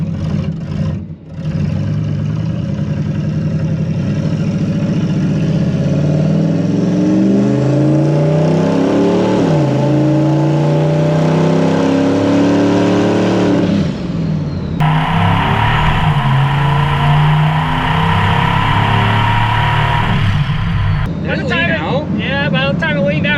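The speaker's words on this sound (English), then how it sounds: "We got a car coming here." A car with a turbocharged small-block Chevy engine revs and drives past nearby, its engine pitch sweeping up and down loudly while people talk over it.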